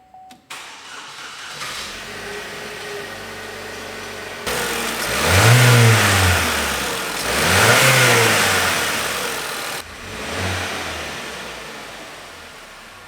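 A Vauxhall Insignia 2.0 turbo petrol engine, which has a faulty camshaft position actuator solenoid, cranks and fires, then settles into a loud idle. It gives two long rising revs and a shorter blip, heard close up with no talk.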